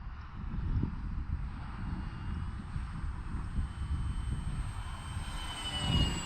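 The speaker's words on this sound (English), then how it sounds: "bring the plane right at me" A radio-controlled Glastar V2 model airplane with flaperons flies toward the listener outdoors, its small engine giving a steady droning hum throughout that swells louder near the end. No one speaks.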